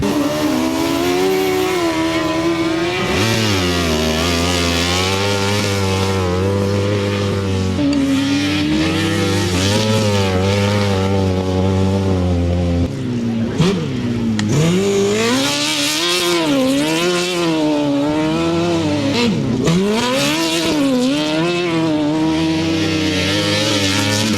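250 and 350 solo motorcycles race on a grass track at Wainfleet in 2013, their engines roaring loud and continuous, pitches rising and falling as riders rev and shift through the race.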